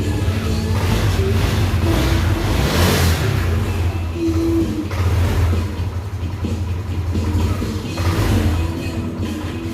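A Yamaha Aerox scooter engine running close by with an uneven idle, its revs rising and dipping irregularly in a steady mechanical drone with no talking.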